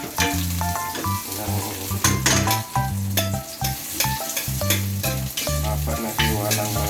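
Garlic and onion fry and sizzle in a pan while being stirred. The sizzle is loud and continuous, with repeated scraping and knocking of the utensil against the pan and background music running underneath.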